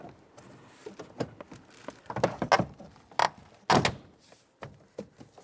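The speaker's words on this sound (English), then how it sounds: "Now take the top part of the door panel, slide that in, and just line the top up" Plastic rear door panel on a 2011-2017 Honda Odyssey being slid into place and seated, a string of close clicks, taps and thunks in irregular rhythm with no talking.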